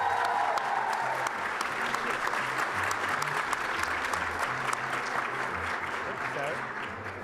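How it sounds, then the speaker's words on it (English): A theatre audience at a gaming convention gives a big round of applause for a team, steady dense clapping lasting several seconds and tapering gently, heard from a moderate distance. "Give them a big round of applause."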